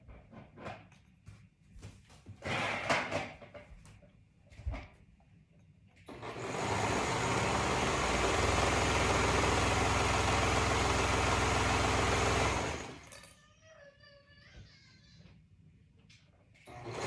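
Sewing machine stitches the sleeves of a DelMar dolman top in one steady, loud continuous run of about six seconds, preceded by quieter handling sounds and followed by a few faint clicks.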